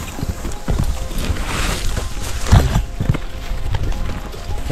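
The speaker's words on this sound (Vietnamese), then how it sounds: "Mình sẽ đẩy ngựa này đi." Hooves of a horse in Mongolia clip-clop at a walking pace while it is pushed along, with steady outdoor noise and a few mechanical clicks and rattles.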